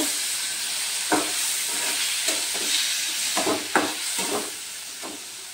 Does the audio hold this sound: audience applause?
no